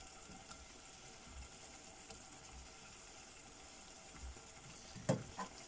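Food frying in a pan over low heat for a home-cooked dinner: a steady, soft sizzle that runs the whole time, with a brief clatter near the end.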